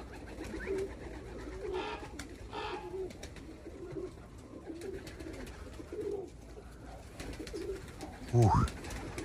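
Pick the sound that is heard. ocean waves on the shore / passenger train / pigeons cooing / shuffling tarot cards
pigeons cooing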